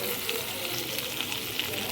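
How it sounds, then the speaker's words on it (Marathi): Stuffed masala green chilies with garlic frying in a pan, giving a steady close sizzle and crackle with small pops throughout. "आपली भरलेली मिरची आत्ता ऑलमोस्ट रेडी आहे. छान सर्व बाजूनी परतून झालेली आहे."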